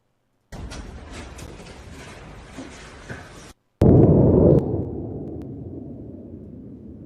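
Missile strike explosions come from played footage: a stretch of rough, noisy rumble, a short cut to silence, then a sudden loud blast that decays slowly into a fading roar.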